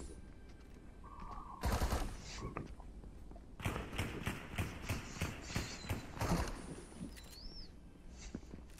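Rapid bursts of lock-on pistol gunfire in a video game, a short volley near two seconds then a steady rhythmic string of shots over several seconds, close and loud.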